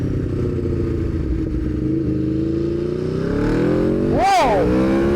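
An Aprilia motorcycle on an open road pulls hard, its engine note rising steadily as it accelerates, with a sharp, brief high rev near the end, heard from on board over steady wind.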